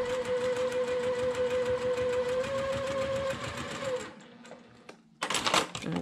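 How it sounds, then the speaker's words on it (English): A sewing machine stitches a mitered quilt border, a fast steady mechanical whir for about four seconds, then stops briefly before a short burst of back stitching. "I'm going to take a few stitches and then back stitch. And then stitch right on that line."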